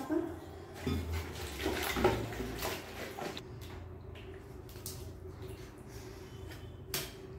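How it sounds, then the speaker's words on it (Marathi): Chuka sorrel leaves being washed by hand in a bowl of water, with soft sloshing, splashing and occasional clinks of a vessel, fairly close and moderately quiet, with no talk. "स्वच्छ धुवून घेऊयात आधी चुका"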